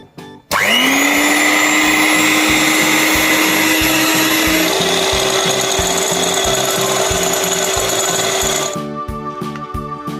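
Electric beater whirring loudly and steadily through eggless apple cake batter with oil, a continuous high motor whine that shifts pitch partway through before cutting out, followed by quieter rhythmic tapping.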